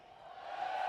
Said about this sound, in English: Oh God, the crowd's heckling.